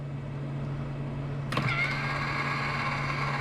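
Electric motor of a Fantastic Fan galley vent lid in a Tiffin Allegro Red 37PA motorhome closing via app: a sudden clunk followed by a steady mid-pitched motor whine over a low background hum.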